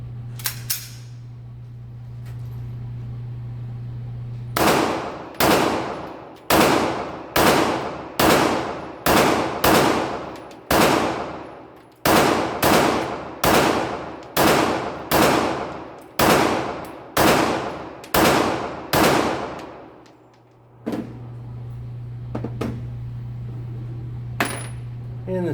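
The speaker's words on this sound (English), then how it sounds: "here's my Glock 17 duty weapon" A Glock 17 duty pistol fired in a long rapid string of about fifteen loud, sharp shots with ringing decay, a brief pause midway, then a couple of later shots over a steady hum.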